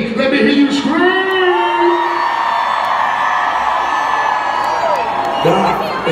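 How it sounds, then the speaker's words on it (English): A concert crowd at a hip-hop show screams, whoops and cheers loudly and continuously, a dense wall of many voices with rising individual yells standing out over the roar. "There should have been a little more screaming in the middle right here."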